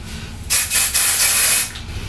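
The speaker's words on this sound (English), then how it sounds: "you can add a little bit more hairspray to give it that added volume" Hairspray spritzed onto brushed-out hair during an at-home blowout: a loud, close aerosol hiss in a few quick bursts running about a second, then stopping.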